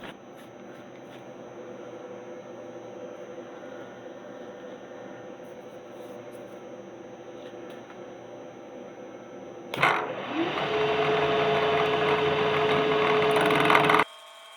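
A Kearney & Trecker Model 2D rotary head mill runs with a steady whine and hum, then takes a light cut on steel spacers that adds a louder, brighter grinding tone for several seconds before it stops.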